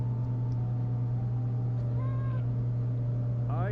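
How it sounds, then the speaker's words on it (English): A cat in the Nancy Drew game Mystery of the Seven Keys gives a couple of short, faint meows over a steady low hum, with a quick rising cry near the end. "Is that a cat meowing?"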